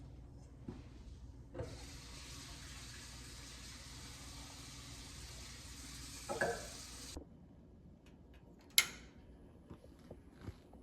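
Tap water runs into a pot to cover beets for boiling, a steady hissing rush that stops abruptly, followed by a couple of sharp clunks of the pot, with no talking.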